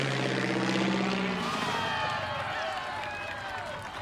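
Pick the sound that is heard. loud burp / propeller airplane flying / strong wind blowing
propeller airplane flying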